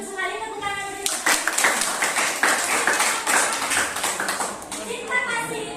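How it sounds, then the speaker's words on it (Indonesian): Classroom applause breaks out for a pupil's correct answer, a dense burst of many hands clapping that swells and then fades over several seconds, with a teacher's voice talking before and after it. "tepuk tangan untuk itu"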